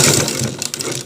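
Sewing machine stitching a folded inner seam on a shirt collar, a steady close whirring run with a slight dip near the end, no voices.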